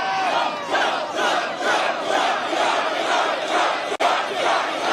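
A large political rally crowd in New York cheers and roars loudly and continuously, a dense sustained wall of voices with rolling swells and one brief cut near the end.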